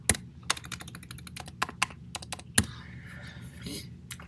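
Fingers tap a computer keyboard in a quiet room, sharp clicks coming in uneven bursts, a few strong keystrokes standing out, then softer scattered taps toward the end.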